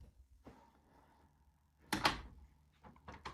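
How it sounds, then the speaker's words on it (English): Wooden house doors are pushed shut until they click, a quiet room with a faint tap, then a loud close thump and latch, followed by a few short clicks near the end. "We close them until they click."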